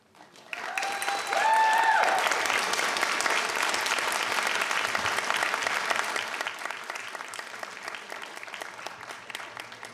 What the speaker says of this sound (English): I will allow the applause for Jackson.